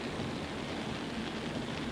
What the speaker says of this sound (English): Beautiful rains drop the temperature right down to about 26 degrees.